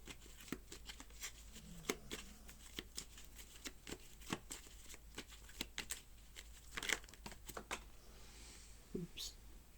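Tarot cards are shuffled by hand close up and quietly, with soft irregular riffles, flicks and papery crinkles spread through the clip and no talk over them.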